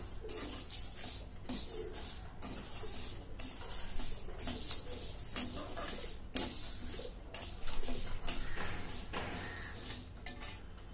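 Coriander seeds, dried fenugreek leaves, fennel and cumin dry-roast in a pan as a spoon repeatedly scrapes and clinks against the metal in quick irregular bursts, close and moderately loud, with no talking.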